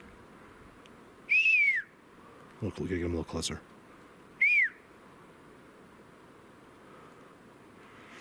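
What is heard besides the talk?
whistles heard in the snowy woods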